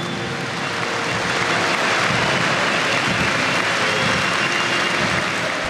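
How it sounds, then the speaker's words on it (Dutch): Sustained, dense applause from a large crowd at the unveiling of a football stadium stand named after Piet Fransen, a continuous even roar of clapping with no break. "Een groot applaus voor Piet Vansen."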